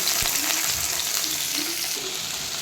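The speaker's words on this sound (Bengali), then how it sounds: "আলুটাকে ভালো করে একটু লাল করে আমরা ভেজে নেব আগে" Potatoes frying in hot oil in a pan with five-spice seeds and chopped chillies, a loud continuous sizzle up close with faint stirring touches underneath.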